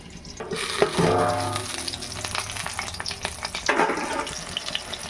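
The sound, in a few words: tapse fish frying in oil in a covered pan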